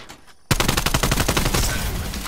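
Rapid burst of gunfire in a Valorant-style tactical shooter, sharp repeated shots erupting suddenly after a quiet moment and continuing loudly and densely to the end.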